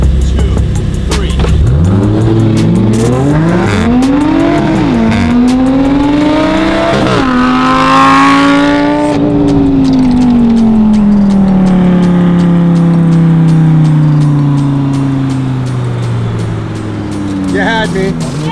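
A 2020 Toyota Supra fitted with a new aftermarket exhaust revs hard and accelerates in a race against a Lamborghini, its engine note rising and falling through gear changes, loud and close, with voices speaking over it.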